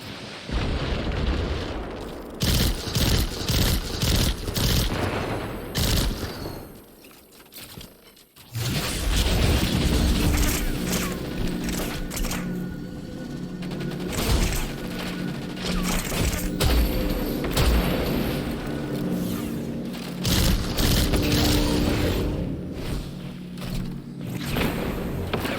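Grenade explosions in a video game boom in heavy, repeated bursts with dense mechanical clatter, loud and nearly continuous apart from a brief lull partway through.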